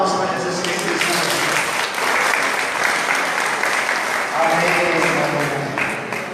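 A church congregation applauds with dense, sustained clapping that fills the whole stretch and stays loud and even, with a voice faintly heard beneath it.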